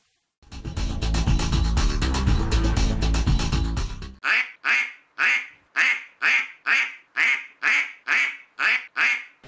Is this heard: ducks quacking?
yes